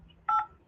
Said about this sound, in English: Please dial 8 for the company directory or 0 for the general voicemail box.